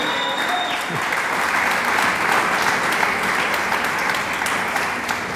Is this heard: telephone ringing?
no